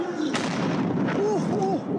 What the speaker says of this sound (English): more gunfire echoed through the streets